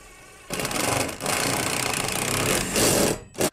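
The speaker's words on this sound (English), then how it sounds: "And then we're just going to go down the line here and just drill all these out." A power drill boring pilot holes through an enclosed trailer wall for E-Track installation, a loud continuous whirring grind with several bursts and brief pauses, close up.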